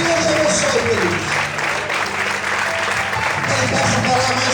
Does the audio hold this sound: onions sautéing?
no